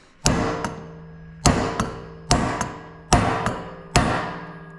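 A hammer strikes an old bearing race set upside down to drive a tapered Koyo bearing onto an input shaft during a ZF5 transmission rebuild for a 7.3 IDI F-350: five sharp metallic blows, each followed by a lighter rebound tap, ringing briefly.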